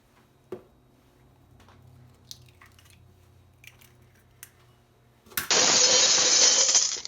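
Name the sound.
cracking two eggs against each other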